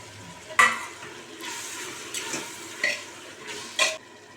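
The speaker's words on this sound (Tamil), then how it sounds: "இப்போ பொடியாக கட் பண்ணி வச்சுருக்கிற தக்காளி சேர்த்துக்கலாம்" Finely chopped tomatoes added to a hot pan with mint and coriander for tomato rice, sizzling steadily while a spoon scrapes and stirs in several loud bursts.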